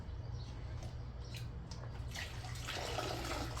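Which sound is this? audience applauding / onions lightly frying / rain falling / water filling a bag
water filling a bag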